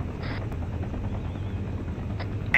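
Arma 3 helicopter rotor and turbine drone, a steady low rumble with a faint whine, continuous and fairly near throughout with no talk.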